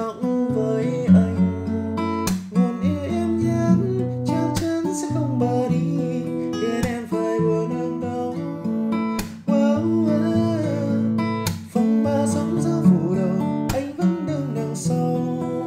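Acoustic guitar strummed in a steady rhythm pattern for a Vietnamese pop song lesson, chords ringing with sharp percussive strokes, close and loud, with no talking.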